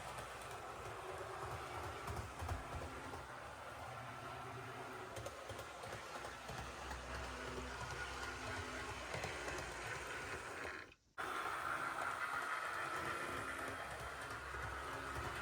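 An HO scale model locomotive runs at fairly high speed on its track, producing a continuous soft rattling whir with a brief dropout near the end before it resumes steadily.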